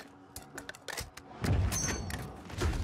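Gunfire in the Call of Duty Warzone Zombie Royale game mode: a scatter of sharp, distant-sounding shots and thuds, some in quick succession, over a rumbling in-game background.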